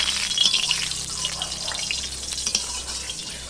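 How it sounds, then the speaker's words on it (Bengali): Dried red chillies frying in oil in a pan, a steady close sizzle with light crackling and occasional stirring scrapes, no voices. "লঙ্কাগুলো একটু ভেজে নিই।"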